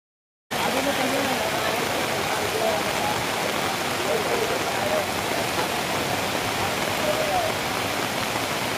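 Heavy downpour in Ramanagara, Karnataka: a dense, loud, unbroken roar of rain that starts abruptly and holds steady throughout, with no voices.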